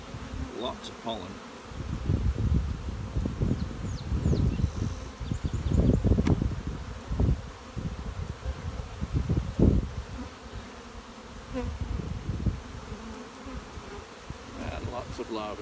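Dense buzzing of many honeybees from a colony close by, swelling and fading in waves, with some rustling in between.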